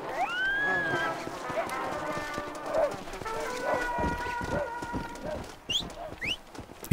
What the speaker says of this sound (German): Ich weiß nicht, ob es ein apokalyptisches Pferd ist